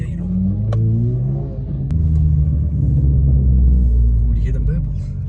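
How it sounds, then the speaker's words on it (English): Deep engine rumble with low burbling exhaust notes rising and falling at a car meet, a nearby car idling and revving, with brief talk in the background. "Would you hear them burbles?"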